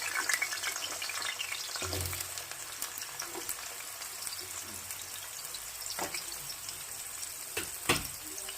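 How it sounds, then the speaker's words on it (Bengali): Cut potatoes sizzle steadily in hot refined oil with black cumin and a whole dried chilli, a continuous crackling fry broken by a few scraping stirs of a spatula, with no talking. "এইবার আলুটাকে আমরা তেলের মধ্যে দিয়ে হালকা করে ভেজে নেব"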